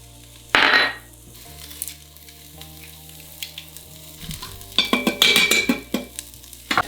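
Ginger and garlic stirred in an Instant Pot, with a brief scrape early on and a busier run of clattering spoon scrapes and sizzle toward the end over a steady low appliance hum.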